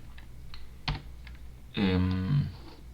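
Keys clatter on a US-layout computer keyboard, a few scattered taps followed by a quick burst of typing. The clicks sound close and fairly clear, with nobody speaking.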